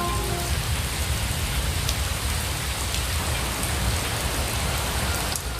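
Steady, dense rain falls on and around an old stone tower in the Himalayas, a constant close hiss of drops with a faint rumble beneath and no voices.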